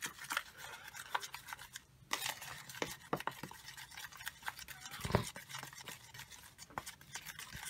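Powder and water being mixed into a paste for a platform flowerbed, heard as close, irregular scraping and stirring strokes with short bursts of rubbing and a louder knock partway through.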